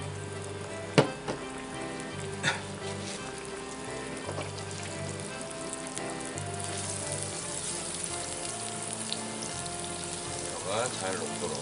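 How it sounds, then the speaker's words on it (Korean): Butter melting and sizzling in a hot pan on high heat, ready for butter-grilling rockfish: a steady, close, hissing sizzle with a few sharp clinks early on and a low, even hum underneath. "버터 올려보도록 하겠습니다"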